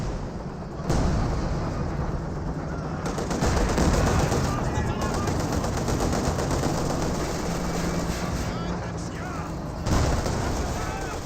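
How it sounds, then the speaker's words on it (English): A ZiS field gun barrage in the Company of Heroes 2 strategy game, rendered as dense, continuous overlapping artillery and gunfire booms throughout, loud and sustained, with battle noise layered under it. "Here comes the Zis barrage."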